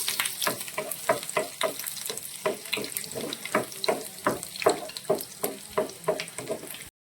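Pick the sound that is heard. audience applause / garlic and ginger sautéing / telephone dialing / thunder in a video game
garlic and ginger sautéing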